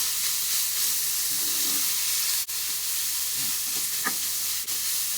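Ground pork sizzles and hisses steadily in a pan at moderate volume, with a couple of brief utensil knocks and no talking.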